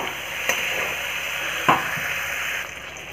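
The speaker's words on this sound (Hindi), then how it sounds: "अब इसमें हम फ्राई किया हुआ कलौंजी और आलू को डाल देते हैं, इसे अच्छे से मिक्स कर ले।" Fried kalonji and potatoes stirred into hot sizzling masala in a pan, a steady frying hiss with two brief scraping knocks of the spoon near the cook, no voices.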